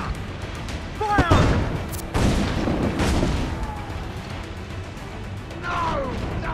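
Ship cannons fire in a naval battle in Assassin's Creed IV Black Flag, sharp booming blasts and crashes in quick succession over a steady roar of wind and sea, with shouted voices between volleys.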